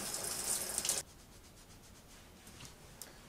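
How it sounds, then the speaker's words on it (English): Water from an RV shower on city water runs loudly for about a second, then cuts off, leaving a quiet room tone with faint soft handling sounds. "I think I'm gonna use the shower to make my hair not so nasty."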